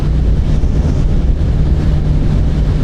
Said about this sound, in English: Bit windy on this open stretch of road